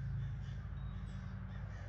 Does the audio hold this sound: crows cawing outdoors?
yes